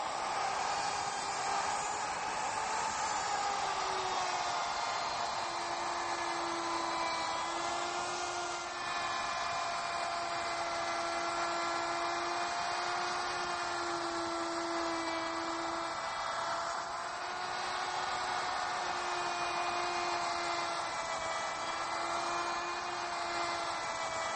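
A D-handle router cuts a rabbet along a wooden workpiece, giving a steady high-pitched whine that holds with slight shifts in pitch as the cut proceeds.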